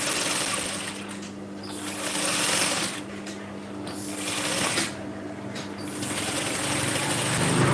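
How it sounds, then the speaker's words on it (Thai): A sewing machine stitching a seam while a garment sleeve is attached, a loud steady mechanical whir running in several bursts with brief pauses between them. "เราจะเย็บ เส้นที่สองเอาตีนผีเป็นเกณฑ์เย็บเข้ามาด้านใน"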